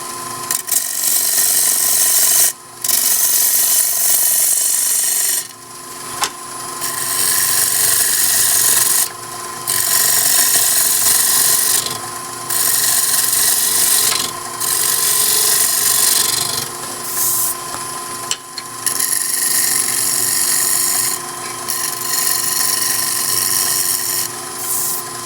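A wood bowl blank is cut on a spinning lathe, a loud, continuous hiss of tool against wood in long passes, briefly breaking off and resuming several times with no talk.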